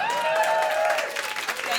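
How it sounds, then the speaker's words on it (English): Audience applause at a stand-up comedy show, a steady wash of clapping from a full crowd that holds for under two seconds before thinning out. "Pause for applause."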